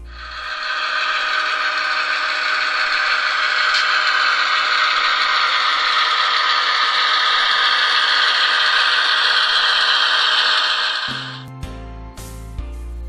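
A model GP38-2 road switcher locomotive runs with a steady, even mechanical whine and gear hum for about eleven seconds, then gives way to a few brief unrelated tones.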